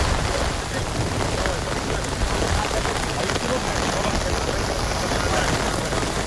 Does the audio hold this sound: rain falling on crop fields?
yes